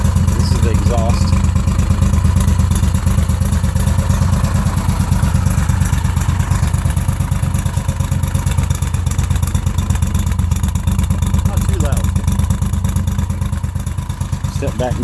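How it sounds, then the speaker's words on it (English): An Argo Avenger 8x8 ATV's engine runs at a steady, loud idle right by the exhaust, a continuous rapid pulsing rumble with light mechanical clatter over it. "This is the exhaust."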